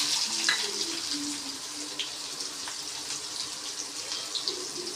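Chopped onion added to a hot pan with cumin sizzles as the base for a spicy Indian eggplant curry, a steady hissing crackle with small pops, fairly close and even.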